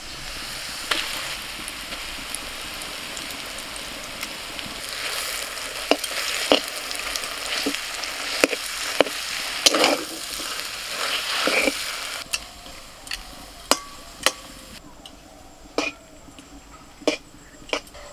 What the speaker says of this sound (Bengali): আদা রসুনটাও ভালো করে ভাজা হয়ে গেছে, এবার মেখে রাখা আলুটা দিয়ে দিচ্ছি।